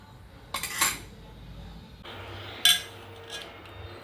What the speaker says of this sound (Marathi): दोन्ही थोडं थोडं घेऊन चमच्याने ढवळत ते मिक्स करायचं आहे.